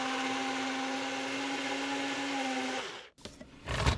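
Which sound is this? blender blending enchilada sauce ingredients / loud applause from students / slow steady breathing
blender blending enchilada sauce ingredients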